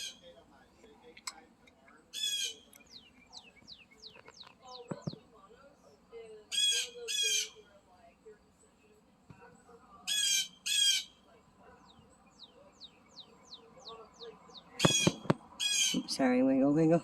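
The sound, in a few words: birds squawking outdoors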